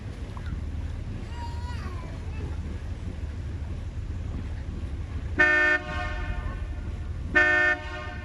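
A riverboat cruising the Dartmouth river sounds its horn for a turn to port: two loud, steady toots, one short and one slightly shorter, cutting through steady engine and wind noise with faint talk earlier.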